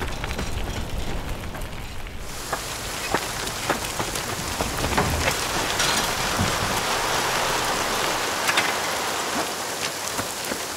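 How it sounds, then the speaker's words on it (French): Steady rain falls outdoors, a dense continuous hiss with scattered louder drops spattering on nearby surfaces, holding at a constant level throughout with no voices. "Maintenant il pleut!"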